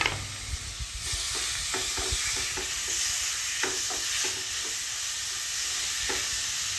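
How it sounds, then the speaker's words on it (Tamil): Tomatoes sauté in a pan on a stove, a continuous close sizzle and hiss overlaid with repeated scraping stirs of a utensil against the pan. "இது தக்காளி ஒரு நிமிஷம் நல்லா வதங்கட்டும்."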